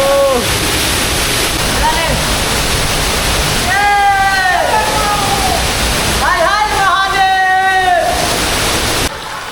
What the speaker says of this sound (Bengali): সরু কুয়ার মধ্যে থেকে দেখো ঝর্ণাটা কত সুন্দর লাগছে।